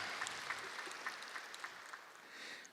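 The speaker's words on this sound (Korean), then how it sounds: "하나님께 영광의 박수 올려드리겠습니다" Church congregation at a Korean Sunday morning worship service claps, a soft, distant patter of scattered hands with light individual claps standing out, quiet and reverberant.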